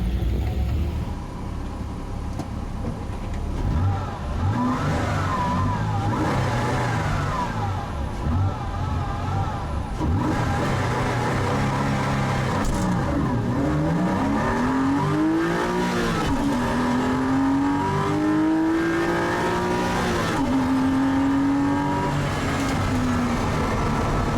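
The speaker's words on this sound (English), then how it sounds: "And Ben's just heading out for his race 2." Porsche race car at a classic racing championship at Oulton Park, engine loud and close, revving repeatedly with rising and falling pitch sweeps as it accelerates through gears, continuous with no voices.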